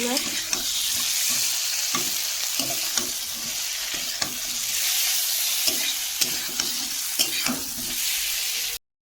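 Potatoes sautéing in a pan in a Sundarbans home kitchen, a steady close sizzle broken by regular scraping stirs of a spatula every half second or so, continuing for several seconds without talk.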